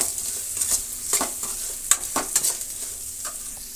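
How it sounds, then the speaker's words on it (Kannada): Onions and curry leaves frying in a pan for a sweet pumpkin sambar, a soft continuous sizzle broken by several sharp spatula scrapes and taps, close up with no voices. "ಇಷ್ಟನ್ನು ಫ್ರೈ ಆಗಲಿ."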